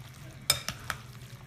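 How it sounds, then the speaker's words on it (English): Cheese being stirred into jarred spaghetti sauce off the heat, giving a few soft, close scraping and clinking stir strokes over a low steady background hum. "Just stir it up"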